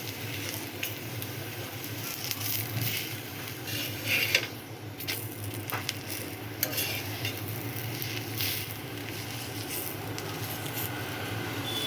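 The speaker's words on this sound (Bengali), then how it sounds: "সব কটা আমি এভাবে ভেজে নেব" An onion laccha paratha fries in a little oil in a pan, giving a steady, fairly quiet sizzle with occasional scraping and clicks from stirring or turning.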